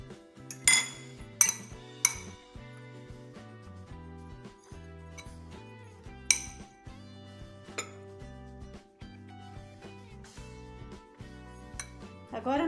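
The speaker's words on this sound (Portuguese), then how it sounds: "Agora vamos empanar os filezinhos." Metal utensils clink and tap against dishes while chicken fillets are breaded in salted egg, a string of sharp, bright strikes of varying loudness scattered across the whole stretch, close by.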